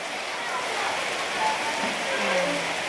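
Rain falls steadily as a soft, continuous hiss of drops on surfaces, with faint voices murmuring briefly in the background.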